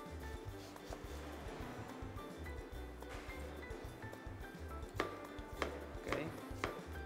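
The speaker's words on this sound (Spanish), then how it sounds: "vamos a picar un poco de cebolla" A knife chops onion for a garganelli pasta dish in white wine, with a few crisp strikes clustered near the end over a steady low background hum.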